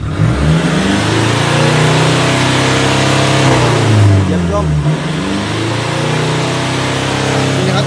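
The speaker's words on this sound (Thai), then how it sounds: "ผมจะเหยียบกระเร่งจมเลยนะดูนะ เหยียบจม" A Toyota Vigo Champ pickup's engine, accelerator floored, holds a loud, sustained high rev at the limiter, with a brief dip midway before it steadies again; someone speaks over it.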